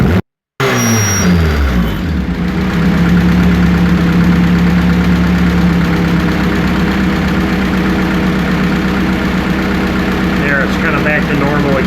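A turbocharged Honda D16 engine in an EJ8 with an eBay turbo, revved open and held high, gives a loud sustained roar and drone that follows a brief dropout at the start.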